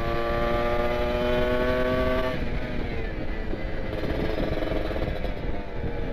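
A motorcycle ridden at full throttle on a group Sunday ride around the eastern ring road near Jatigede, Sumedang, gives a loud sustained engine roar with a strong horn-like harmonic tone at first, close to the microphone and mixed with wind rush.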